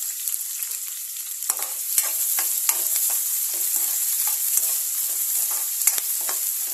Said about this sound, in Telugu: సన్నగా కట్ చేసి పెట్టుకున్న ఆనియన్స్ వేసుకుందాం